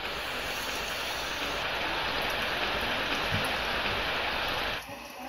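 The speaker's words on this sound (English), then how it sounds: "Well, looks like it's raining." Rain falling in a cartoon, a dense, steady hiss of downpour filling the scene, loud and continuous before dropping away abruptly near the end.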